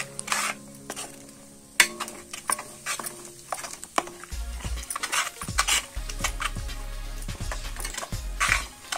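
Sira halwa stirred quickly in a pan over a medium gas flame, the spoon scraping and clinking against the pan in irregular, close strokes with light sizzling beneath.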